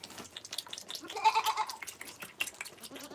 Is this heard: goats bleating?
yes